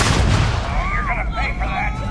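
Gunfire in the space video game Starfield, a burst of loud close shots at the start followed by rumbling blasts, with a voice speaking briefly over the combat.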